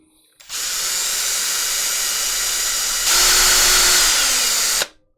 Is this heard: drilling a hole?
yes